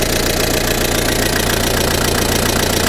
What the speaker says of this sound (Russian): Двигатель работает как часики.